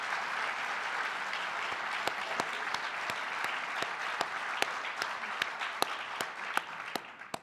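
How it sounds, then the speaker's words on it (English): A crowd at a 2011 all-hands town hall meeting gives a steady round of applause, with even, continuous clapping and some sharper individual claps standing out, fading slightly at the very end. "give her a round of applause"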